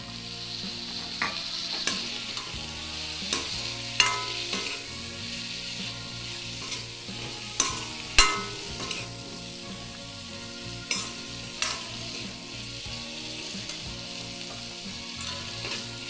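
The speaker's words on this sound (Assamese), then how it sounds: "অকণমান এনেকৈ ভাজিব লাগিব।" Dried fish and brinjal frying in a pan, a close continuous sizzle with repeated scraping and knocking strokes of a stirring utensil at irregular intervals.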